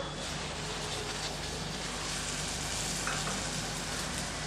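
Chopped onions and ground tomatoes fry in a pan for brinjal gravy, giving a steady, even sizzle at moderate loudness with faint stirring and no talking.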